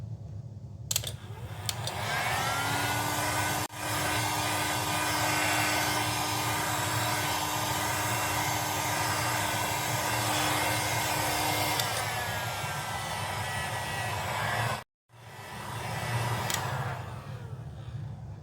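A heat gun blows steadily close by while warming the LCD screen of a Lenovo V14-ADA laptop, a continuous airy roar with a faint tone that shifts midway, one brief dropout near the end, then resuming.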